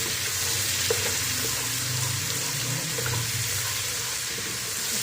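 Garlic and ginger sautéing in a pan for chicken korma, a steady loud sizzle and frying hiss that runs without a break, close up, with no voices.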